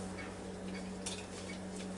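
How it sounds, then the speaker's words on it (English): Cuisinart Smart Stick with its whisk attachment running in a bowl, a steady close motor whir with fast whisking swish and light clinks against the bowl, continuous and without talk. "whisk it right up"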